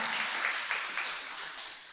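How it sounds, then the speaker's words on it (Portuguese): A church congregation applauds during a talk: a short, soft wash of many hands clapping that sounds distant and diffuse and fades slightly toward the end. "Pode aplaudir mesmo."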